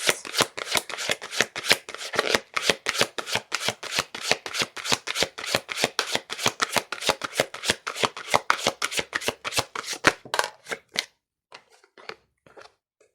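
Tarot cards being shuffled close up, a long run of quick, crisp riffling slaps in a steady rhythm, then a few softer taps as the deck settles.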